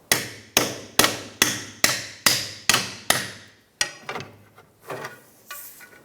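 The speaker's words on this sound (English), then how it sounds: "Using a pry bar in the lower link, I'm going to twist it up and forward and hit my bolt through." Hammer blows drive a lower link bolt through the rear suspension of a 2007-2012 Nissan Altima during a coil spring replacement: eight loud, evenly spaced metallic strikes, then a few lighter, irregular taps and clinks, with no talking.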